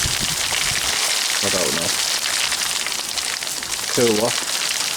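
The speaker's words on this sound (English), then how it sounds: "you never know when you're going to start recording and it's going to hailstorm" Hail pours down outdoors in a loud, dense hiss that runs the whole time, while two people speak briefly over it.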